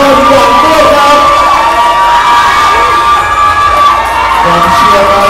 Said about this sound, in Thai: ขอเสียงปรบมือให้กับมิสเจ้าเฟิร์สหวังพัฒนาพรหวังด้วยครับ